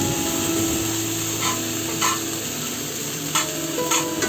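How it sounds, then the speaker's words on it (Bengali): Pieces of bitter gourd frying in oil make a constant loud sizzle, with a few brief scraping stirs on top and no voices. "এবার করলাগুলোকে ভেজে নিচ্ছি"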